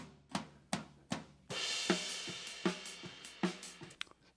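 A drum kit's cymbals high-pass filtered with EQ: thin, bright metallic hits, first spaced strikes, then a shimmering crash wash with steady ticking accents, the low drum thump largely removed and no one speaking.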